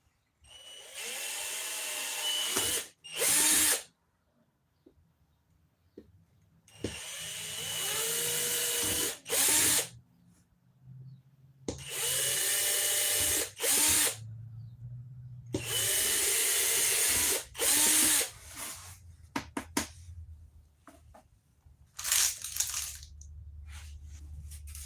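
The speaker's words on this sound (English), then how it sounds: "Just want to drill 4 holes" A power drill whirs in repeated bursts while drilling four holes, some long and some short, with pauses between them and faint clatter in the gaps.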